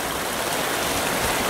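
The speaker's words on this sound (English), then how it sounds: "the creek is running due to the rain" Canyon creek in Sabino Canyon flowing full after heavy overnight rain, a steady broadband rush of water holding even and close throughout, with no voices.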